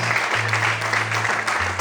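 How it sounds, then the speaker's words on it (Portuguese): Church congregation applauding the Lord at an evening Portuguese-language service, a continuous even roar of many hands clapping throughout, with a low sustained hum underneath. "Será que você pode aplaudir o Senhor essa noite?"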